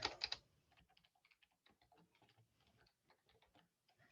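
Computer keyboard typing, a quick loud burst of keystrokes at the start and then softer, scattered taps that continue with irregular pauses, close to the microphone with no speech.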